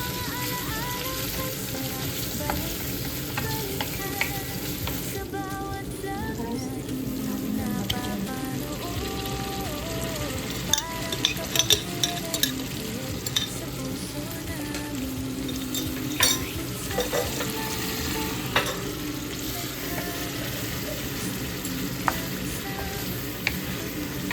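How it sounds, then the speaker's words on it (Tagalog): Garlic, onion and tomato sizzle and fry steadily in a pan for Filipino bagoong alamang (shrimp paste), with occasional clinks and scrapes of stirring over a continuous loud crackle, no talking. "Bisa-bisahin lang muna ang bawang, sibuyas, kamatis."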